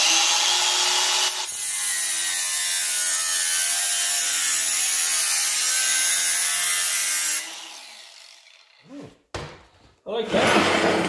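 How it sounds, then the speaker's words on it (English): New angle grinder cutting sheet metal, a loud continuous high-pitched abrasive screech held steadily for several seconds, then the disc winds down, followed by a few short metallic knocks. "This will be my first cut with the new grinder."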